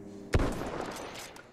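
A single sharp gunshot from Battlefield 1 gameplay cracks loudly up close, then rings out in a long, noisy reverberant tail that slowly fades.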